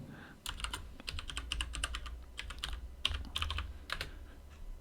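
Someone types a password on a computer keyboard to an Ubuntu system, a quiet run of quick, uneven key clicks and taps lasting several seconds, close by and without talk.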